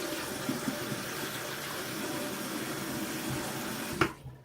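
Makeup brushes rinsed of soap under a steadily running tap, a continuous close hiss and splash of flowing water that cuts off abruptly near the end.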